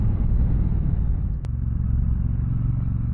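A 2024 Triumph Bonneville Bobber motorcycle rides over a bumpy stretch of road, its engine a loud, steady low rumble with clattering from the rough surface and a brief sharp knock partway through.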